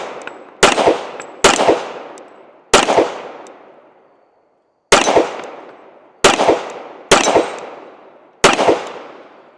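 Springfield Emissary 1911 pistol firing outdoors, seven loud close shots in irregular spacing, each sharp crack followed by a ringing decay, with a brief pause partway through.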